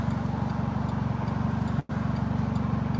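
A sports car engine with an unfixed muffler idles in a low, rapid rumbling pulse that stays steady and fairly loud, broken by one brief sharp dropout near the end.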